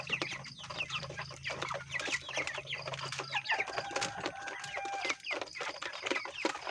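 Broiler chickens about 45 days old cluck in a dense, continuous flock chorus, with overlapping short calls and a steady low hum beneath through the first half, no talking.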